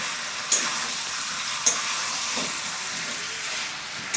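Duck meat being stirred in a pan as it cooks, a steady frying sizzle with a few sharp scrapes of the spoon against the pan at intervals.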